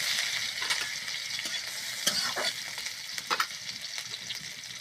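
Whole cumin seeds and green chilies sizzle steadily in hot oil, with a few brief stirring scrapes and clicks punctuating the continuous frying hiss.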